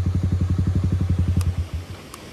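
A Yamaha R15 V3 motorcycle engine throbs in fast, even pulses near a flooded water crossing in Himachal Pradesh, loud and close, then the revs drop away and fade out with a couple of faint clicks.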